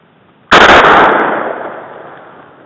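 A single loud, close gunshot from a Mosin rifle at a shooting range, a sharp crack followed by a long echoing decay over about two seconds.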